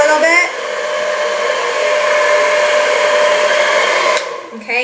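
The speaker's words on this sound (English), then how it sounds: "that button that's supposed to be the cooling button on your blow dryer" Handheld blow dryer running on its cool shot setting while styling curls, a loud steady close-up whoosh that holds for about four seconds before cutting off, then a brief burst of airflow at the end.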